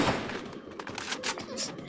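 Gunfire in the Free Fire battle royale game crackles in several short sharp bursts, irregularly spaced, loud and close, with brief quiet gaps between volleys.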